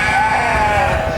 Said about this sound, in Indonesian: di belakang saya bisa dilihat itu domba-domba yang lagi dikeluarkan ya